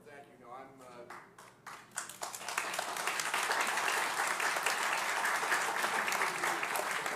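Audience applause breaks out in a legislative committee hearing room, starting as scattered claps and swelling into sustained, even clapping from a crowd that holds steady to the end.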